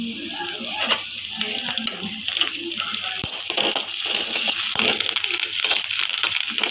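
Curry leaves frying in hot oil in a pan with browned green chillies, a steady close sizzle with crackling bursts and a few stirring scrapes under a quiet voice.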